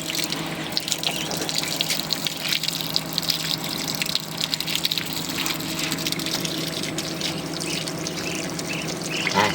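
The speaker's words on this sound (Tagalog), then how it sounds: "Yung tubig na to galing to doon sa poso." Water gushing steadily from a hand pump on a calamansi farm in Mindoro, a continuous loud splashing flow with small irregular fluctuations and no talking.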